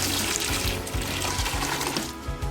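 Water with onion peels soaking in it pours in a steady, continuous splashing stream into a large bucket, close and fairly loud, with no talking.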